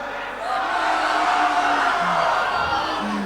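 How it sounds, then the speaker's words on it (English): A rowdy concert crowd yells and cheers at a 1988 gig at the Old Greek Theatre in Richmond, Melbourne, swelling into a loud, sustained roar of massed voices with whoops rising above it. "I want to hear you yell out"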